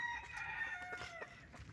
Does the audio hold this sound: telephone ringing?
no